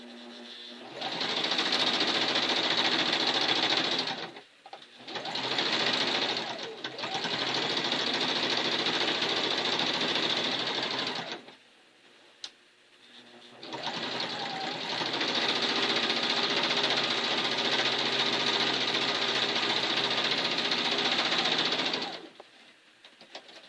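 Domestic sewing machine stitching a quilt runs in two long steady whirring bursts, with a short stop and restart early on and a pause between, close and continuous.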